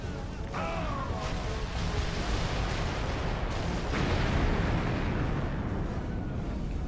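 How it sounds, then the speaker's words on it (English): A bridge blows up during Civil War fighting in Call of Juarez: Bound in Blood, heard as a dense, sustained rumbling blast with crackling debris that stays loud for several seconds. "You blew up the damn bridge."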